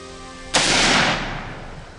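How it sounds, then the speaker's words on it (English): One loud, close gunshot from a .44 Magnum pistol fired at a target 25 yards away: a sharp crack followed by a short, fading echo tail. "And I'm sighting a pistol in at 25 yards."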